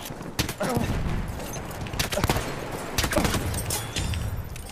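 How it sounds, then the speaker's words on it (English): Automatic weapon fire from the video game Battlefield 1, with repeated bursts and scattered heavy shots crackling loudly throughout, layered with other battle noise while a player talks excitedly over the gunfire. "That's an enemy machine gun!"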